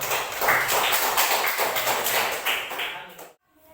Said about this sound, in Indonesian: kalau gak ada kita kasih tepuk tangan buat kelompok 2